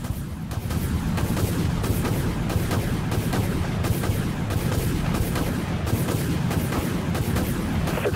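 Weapons fire in the video game Dreadnought, a dense continuous barrage of booming rapid shots and explosions that stays loud and steady throughout, with no voices over it.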